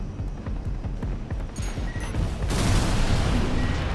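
Mech in Armored Core 6 firing a volley of missiles in PvP combat, a rapid string of thumping launches followed by a dense roaring wash of explosions, loud and continuous.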